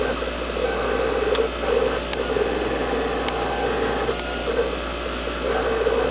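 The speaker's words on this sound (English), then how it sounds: "this is going to take a minute or two to cut because I'm cutting all 30 inches across" A TC Series US Cutter vinyl cutter works across a 30-inch sheet, giving a steady mechanical whir with faint periodic clicks and carriage movement, close and continuous with no talk.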